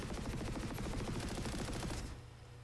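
A weapon is hip-fired in the video game Planetside 2, a rapid, steady automatic burst lasting about two seconds, loud and close, then stopping abruptly.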